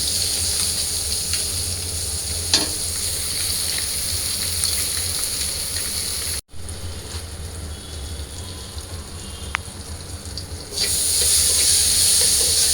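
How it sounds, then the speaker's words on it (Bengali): Fish fries in a pan with a constant loud hiss like steam. The hiss cuts out for an instant partway through, stays a little quieter for a while, then swells louder near the end. "এখানে এসে সবগুলো মাছ আমি ভাজি করে নিচ্ছি"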